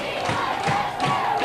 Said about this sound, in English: This crowd's getting into it